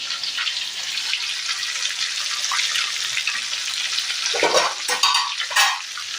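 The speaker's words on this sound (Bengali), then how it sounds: "এখন এখানে কড়াইতে তেল দিয়ে দিয়েছি আর পাঁচফোড়ন দিয়ে তরকা লাগিয়ে দিলাম" Panch phoron tempering sizzles in hot oil in a kadai: a close, steady bright hiss with a few louder spitting bursts near the end and no voices.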